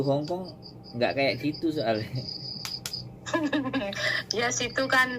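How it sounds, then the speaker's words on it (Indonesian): Crickets chirp in a quiet rural village at night, a steady high trilling that carries on under a relaxed conversation between people talking throughout. "Iya, jangkrik kok keren."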